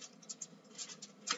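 A knife cuts into plant material in a plant breeding lab, giving soft scratchy scraping and patter-like cutting strokes, close and fairly quiet, with no talk.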